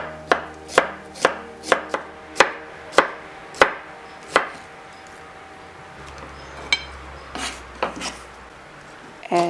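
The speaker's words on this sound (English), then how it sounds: "chopping up some woodier mushrooms that have been pre-soaked" A knife chops sharply on a cutting board through pre-soaked woody mushrooms in a quick, steady rhythm of about a dozen strokes, then slows to a few scattered cuts, close up.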